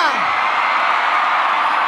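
Women in a live concert crowd scream loudly and continuously, a dense sustained shriek close to the mic.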